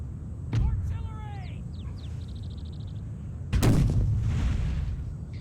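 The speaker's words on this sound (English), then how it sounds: "Let us start fully bombarding." Artillery in the Empire: Total War American Civil War mod opens fire in two heavy booms a few seconds apart, each followed by a rolling rumble, with game chatter and whistling effects in between.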